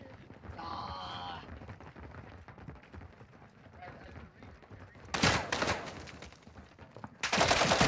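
Rapid gunfire in the shooter game Call of Duty, two loud sustained bursts near the end that follow busy game noise and voices talking underneath.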